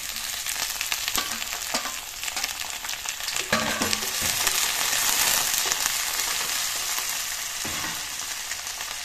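Fish and browned onions frying together in a pan: a dense, continuous sizzle close by, with occasional louder scrapes and knocks from stirring.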